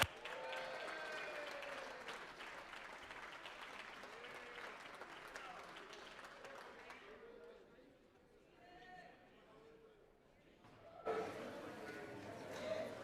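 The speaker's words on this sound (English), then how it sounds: "Let's give her another round of applause." Applause for a guest at a legislative session swells across a large chamber, a sustained wash of clapping heard at moderate distance that fades out before a brief burst of sound at the end.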